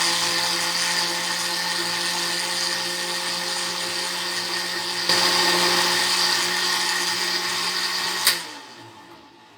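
A blender whirs steadily at high speed, mixing mint, lemon, sugar, salt and water for a mint margarita, then cuts off abruptly with a click near the end.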